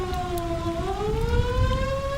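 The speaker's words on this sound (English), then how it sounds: "What if a warning siren sounds?" A wailing civil defense warning siren from an old TV broadcast rises and holds in a steady, harmonic-rich tone, continuous throughout with no voices.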